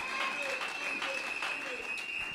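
A church congregation applauding to acclaim the Lord, with continuous brisk clapping under a fairly loud voice throughout.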